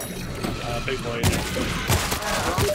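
Rapid gunfire rattles through a World War Z video game session, with sharp repeated shots and bursts over continuous game noise, while players talk over the action.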